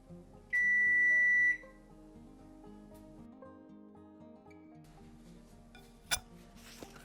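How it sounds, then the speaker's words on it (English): A kitchen oven gives a single loud, steady electronic beep about a second long to signal it has preheated. Faint clinks and quiet kitchen background noise follow. "That was the sound of the oven saying it's heated."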